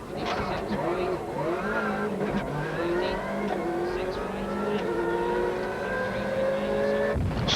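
Heard from inside a driver's Subaru rally car at the 1998 Sanremo Rally, the engine revs hard with rising gear pulls and a sharp shift, while a voice talks over the cabin din.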